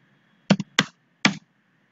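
A few sharp keystrokes on a computer keyboard, three quick separate clicks entering values in a design program, close and crisp against near silence.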